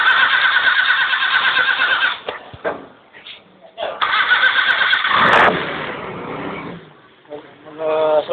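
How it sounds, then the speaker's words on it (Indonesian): A car engine is cranked and started during a conventional tune-up, a loud, steady mechanical roar that breaks off midway, returns, and fades toward the end, with voices nearby. "Kemudian mesin dihidupkan."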